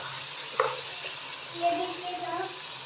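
Beef and tomatoes frying in a karahi, a steady close sizzle with a brief stirring scrape and a voice speaking over it.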